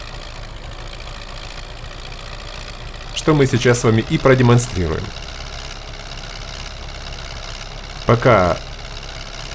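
A tractor engine idles in Farming Simulator 2015 as a steady low hum that runs under the whole stretch, while someone talks over it in two bursts.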